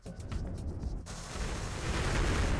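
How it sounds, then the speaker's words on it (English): Rapid gunfire from guns in the VR game Blue Can Fly, a dense burst of shots that turns into a continuous loud crackling roar after about a second, with no talking. "the plants sort of get smaller when I shoot them"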